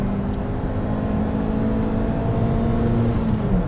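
A car engine, heard during a street race involving a VAZ 2109 16-valve, drones loudly and steadily under acceleration, with a sustained hum and whirring tone throughout and no voices over it.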